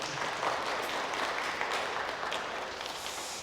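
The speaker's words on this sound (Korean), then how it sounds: "한 번 더 박수하겠습니다." A church congregation at a Sunday service of a Korean mission church in Berlin applauds, a steady, even wash of many hands clapping from a seated crowd, moderately soft and without talk.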